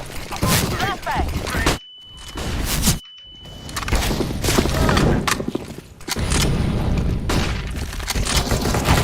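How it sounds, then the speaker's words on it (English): A flashbang grenade detonates amid chaotic gunfire and bursts in a Counter-Strike style shooter match, with a sharp ringing tone and a sudden dropout after the blast, and loud explosive clatter throughout. "Flashbang."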